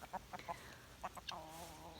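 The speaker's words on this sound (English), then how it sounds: "Tina's a rooster" A rooster named Tina clucks on a homestead, a string of short, fairly faint clucks spaced irregularly, ending in a longer drawn-out call.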